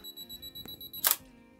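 A camera shutter fires after a self-timer countdown, one crisp mechanical click preceded by a run of steady soft beeps from the timer, close and alone in a quiet setting during night-sky photography setup.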